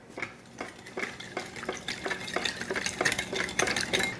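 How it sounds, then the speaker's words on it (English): Wet ingredients being whisked together in a bowl during Korean home cooking, a steady series of quick scraping, clinking strokes that speed up and grow a little louder toward the end, with no talking. "Now we need to whisk this all together."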